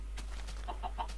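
Chickens in the video game Minecraft cluck in a short run of several quick, moderately loud calls over a steady low hum, with no talking.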